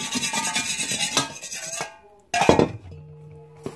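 Chicken being mixed with ground black pepper in a bowl for barbecue wings: clinking and scraping in quick bursts, a short pause, then another burst of clinks and rubbing.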